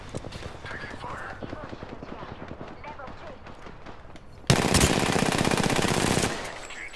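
Rapid machine gun bursts rattle through a video game match, with steady clattering shots and a louder, denser spray of fire toward the end, mixed with game sounds.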